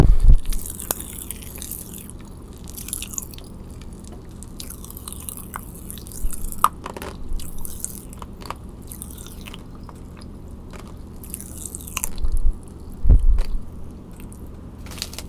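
Close-up crackling and popping from Pop Rocks candy in a mouth, with intermittent crunchy bursts and soft chewing over a quiet background.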